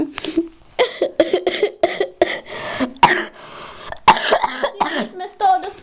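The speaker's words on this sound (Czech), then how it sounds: "My jsme z toho dostali kašel." A child-like voice coughs repeatedly in short, close bursts, mixed with spoken sounds during playful voiced toy play.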